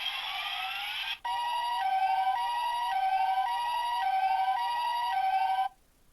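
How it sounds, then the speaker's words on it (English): A Power Rangers Operation Overdrive Mercury Morpher toy plays an electronic ambulance siren, a thin, bright wailing tone that rises and falls in a repeating pattern, close and clear, with a short break near the start before it ends abruptly. "So that one must be an ambulance, because it sounds quite a lot like an ambulance."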